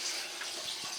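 Antifreeze draining from the radiator of a GMC Sierra with a 5.3L engine, a faint continuous trickle of liquid splashing steadily with no speech.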